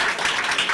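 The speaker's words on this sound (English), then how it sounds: "Let's give you a round of applause" A short, loud burst of dense audience clapping at a startup investment event, a continuous roar of many hands with no pause.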